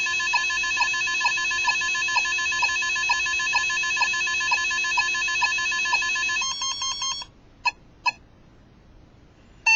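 A 1980s handheld electronic game plays thin, beeping sound effects: a steady electronic tone pulses in a regular rhythm, then gives way to a few short bleeps separated by near silence.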